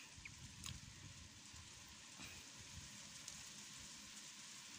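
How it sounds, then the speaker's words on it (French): A rain shower in Bellême, a steady hiss of falling rain with faint drip textures, continuous and fairly distant, no voices. "Salut les gars, il pleut, ça y est."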